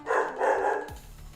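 A dog gives one or two short, muffled barks somewhere away from the listener, faint and brief, with quiet room noise after.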